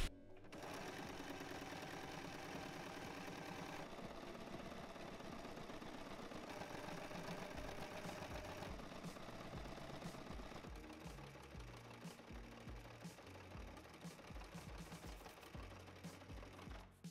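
A sewing machine runs steadily, stitching folded tracksuit fabric for a recycled skirt, its continuous whirring hum holding for the whole stretch at a moderate, even level with no talk.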